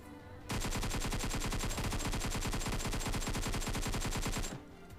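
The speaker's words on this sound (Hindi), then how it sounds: "ये फायर हुआ नहीं कुछ किसी मतलब का" A single sustained burst of automatic video game gunfire rips out after a brief quiet start, fast evenly spaced shots running about four seconds before cutting off.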